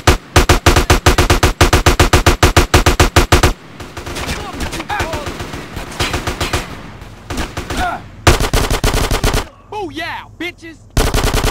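Machine gun fire in Grand Theft Auto: San Andreas, loud rapid bursts of automatic shots broken by short pauses, with a shouted voice briefly heard between volleys.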